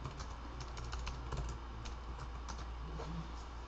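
Quick typing on a computer keyboard, a run of soft, close key clicks over a low background hum, with no talking.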